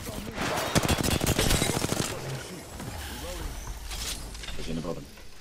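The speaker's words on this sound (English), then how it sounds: "Shots on me." Gunfire in Apex Legends, a fast burst of automatic shots, then scattered single shots and shell clinks, with someone talking over parts of it.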